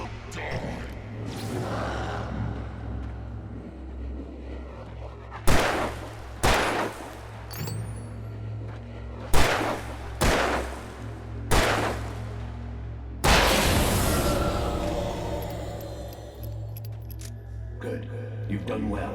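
Gunfire in the video game Alan Wake Remastered: a handful of sharp, loud shots spaced a second or two apart, with one heavier blast near the end, over a low droning game ambience.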